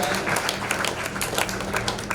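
Steady, dense applause from an audience at a Shrimad Bhagwat Katha religious discourse in Surat, honouring a guest called Jain sahab. Many hands clap continuously at moderate volume, filling the space without a break or voices on top.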